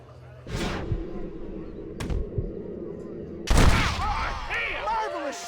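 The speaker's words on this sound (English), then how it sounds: "Marvelous shot, dear boy." Gunfire in the Western video game Red Dead Redemption: one sharp shot at the start and a second soon after, then a heavier crack with a booming tail, all over steady game ambience with voices chattering.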